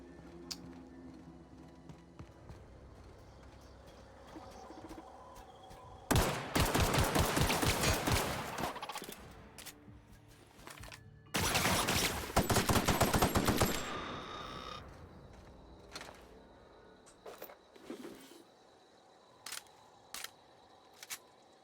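Pistol gunfire in the video game The Outer Worlds comes in two dense rapid volleys of sharp shots, loud and close, followed by scattered single cracks and quieter clicks.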